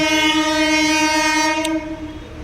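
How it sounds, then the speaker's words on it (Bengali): A train from Budge Budge sounds a loud, sustained horn blast near a road bridge in the early morning. The blast holds steady for nearly two seconds, then drops to a rolling rumble. "সেকেন্ড ট্রেন যেটা বজবজ থেকে ছাড়ে সকাল 5টা 45 নাগাদ"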